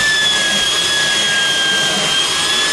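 A carpet extractor rinses and pulls liquid from dyed carpet, a loud, steady suction roar with a thin high whine running throughout, close and unbroken.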